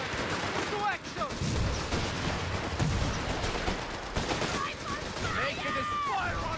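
Battle gunfire in the Company of Heroes 3 war strategy game, bursts of rifle and machine-gun shots mixed with explosions and distant rumble, dense and continuous under game voice chatter.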